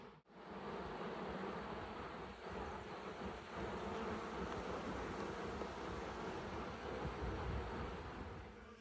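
A honey bee swarm inside the wall of a house makes a dense, steady buzz that continues for the whole stretch, close and enveloping, with no voices.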